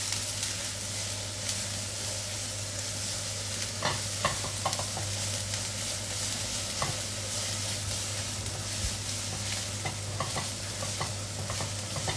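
Chopped onion with ginger-garlic paste fries in oil for a mutton shami kebab, a soft continuous sizzle under a steady low hum, with scattered scraping clicks of a stirring spoon against the pan.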